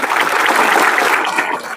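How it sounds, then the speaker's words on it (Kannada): Audience applause at a school gathering: a dense, steady patter of many hands clapping close by, sustained evenly and tapering slightly toward the end. "ಒಂದು ಚಪ್ಪಾಳೆ ಬರ್ಬೋದಲ್ಲ"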